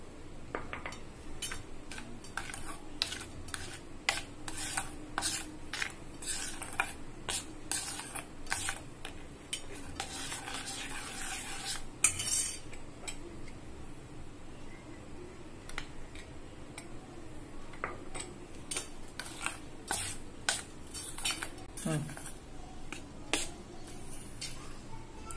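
Chocolate cake batter of egg yolk mixture, cocoa powder and flour is folded in one direction with a utensil, giving quiet repeated scraping and tapping against the bowl with faint background noise.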